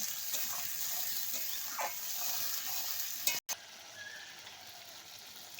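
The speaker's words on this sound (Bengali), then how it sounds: "আদা কাঁচা লঙ্কাটা আমি কিছুক্ষণ কষিয়ে নেব" Ginger and green chili paste fries in a pan for a fish dish, a soft, steady sizzle with a few gentle stirring scrapes, briefly cut to silence just past the midpoint before the hiss resumes more quietly.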